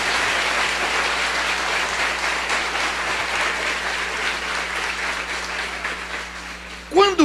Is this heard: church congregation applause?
yes